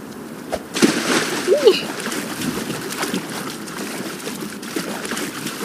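Splashing water in the Roblox game Livetopia, a few sloshing bursts near the start over a steady watery wash, with voices talking faintly beneath.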